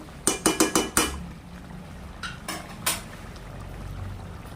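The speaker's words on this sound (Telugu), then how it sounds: "ఒక్క 2 నిమిషాలు మూత పెట్టి" A pan of egg and mushroom curry gets its metal lid set on with a quick run of five clattering knocks, followed by a couple of fainter clinks against a low simmering background.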